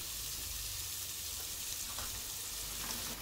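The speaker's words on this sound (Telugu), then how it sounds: "ఆనియన్స్ అనేది ఇలా ఫ్రై చేసుకోవాలి." Onions frying in a pan for gongura chicken, a steady, even sizzle holding at a constant level throughout, with faint stirring touches near the end and no voices.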